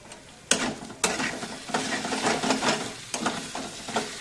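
Green chilies go into paneer bhurji frying in a pan, giving a steady close sizzle broken by several sharp clatters of stirring and scraping.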